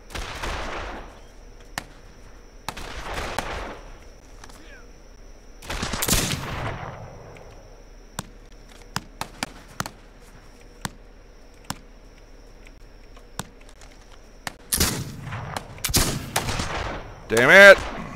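Gunshots in a settler-defense video game ring out in scattered bursts: a few louder volleys near the start and end with single sharp cracks between, some distant, all loud against a quiet background, with a voice briefly heard.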